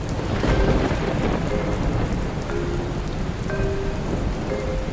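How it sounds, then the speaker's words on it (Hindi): Steady heavy rain pours down with rumbling thunder rolling throughout, loud and continuous, with brief higher tonal accents scattered over the downpour and no voices. "तुम दोनों बारिश देखो"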